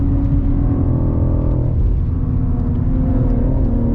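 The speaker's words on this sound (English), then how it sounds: "Just because of the sheer power of this engine." A 2023 BMW X4 M Competition with its S58 engine pulls hard uphill, giving a steady, loud engine drone with layered harmonics that holds through the whole stretch, with no voices.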